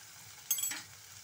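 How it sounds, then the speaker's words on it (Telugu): A brief, soft sizzle of tomato pieces frying in a pan swells for a moment, then settles back into a quiet background hiss. "టొమాటో ముక్కలు కూడా వేసేసుకొని వేయించేసుకొని మూత పెడితే"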